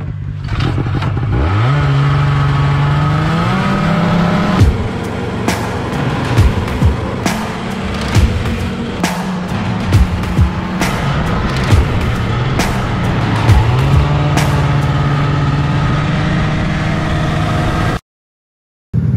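A vintage snowmobile engine misfiring on one cylinder, running loud and close with a rough, uneven drone that rises and falls in pitch as it revs, plus scattered clattery knocks, until it cuts out near the end.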